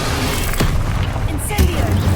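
Confringo spell explosions in the game Hogwarts Legacy, two deep booming blasts with rumbling tails over a constant game background, loud and close.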